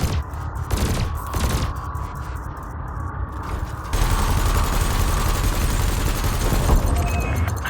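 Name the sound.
cannon fire at canisters in video game Elite Dangerous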